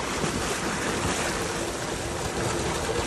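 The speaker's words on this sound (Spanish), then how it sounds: "Ah, está bravo el agua." Rough, choppy water rushing and churning steadily, a dense, even wash of noise with no pauses and no voices.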